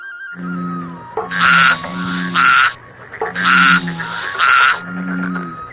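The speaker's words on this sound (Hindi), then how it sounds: "कुछ दूरी पर मेंढक टर-टर करने लगा।" Loud honking croaks repeat in a steady rhythm, four bursts alternating with lower droning calls, close and alone.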